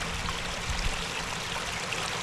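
Water flowing along the Brimstone and Sawtridge Leat, a historic stone-lined channel on the open moor of western Dartmoor, with a steady, close, full rushing and trickling that continues evenly with no talk.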